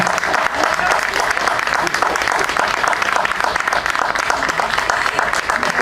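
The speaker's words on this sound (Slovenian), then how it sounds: "še enkrat velik aplavz za pevski zbor" A crowd applauds loudly and steadily for a choir at a festival opening, a dense wash of clapping filling the whole stretch.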